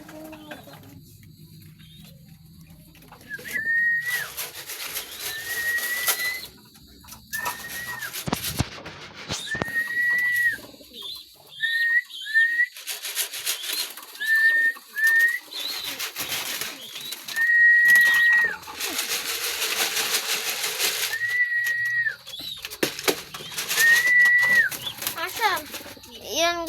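Repeated short, high whistles, each followed by rattling bursts of feed, call birds, with pigeon or dove coos and wing flaps nearby and occasional quiet background voices.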